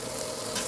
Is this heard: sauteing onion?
yes